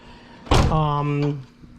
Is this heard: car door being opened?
yes